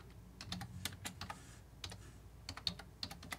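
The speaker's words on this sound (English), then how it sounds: "So let's type in something." Keystrokes on a computer keyboard wired through an 8-port KVM switch, entering a Linux terminal command: a steady run of close, crisp clicks at an uneven typing rhythm, with no voices.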